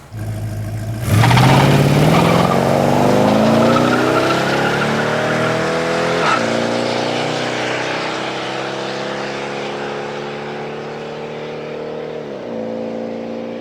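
A tuned low-compression muscle car launches down a drag strip, its engine roaring loudly and climbing in pitch through several gear changes, then holding a strong steady howl as it runs away.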